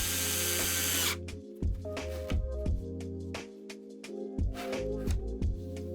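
Screws being driven back into a wooden shelf with a power drill, several short whirring bursts with pauses between, close and loud.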